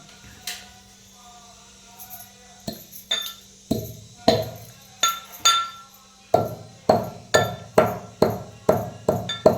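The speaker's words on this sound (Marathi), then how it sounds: "आता कुटून घ्यायचं बारीक करून घ्यायचं" Cumin being pounded to a fine powder, a series of sharp, ringing metallic strikes, slow and sparse at first, then a quick, even rhythm of loud blows close by.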